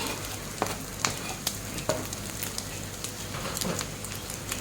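Dried prawns frying in a pan, a continuous crackling sizzle with several sharp utensil knocks and scrapes from stirring, moderately quiet and close, with no voices.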